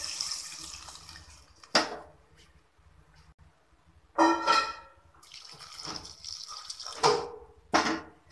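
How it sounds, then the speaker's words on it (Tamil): Water splashes and gurgles in short bursts, poured into a cooking pot of curry with potato in several separate pours with quiet pauses between. "தேவையான தண்ணி ஊற்றி வேக"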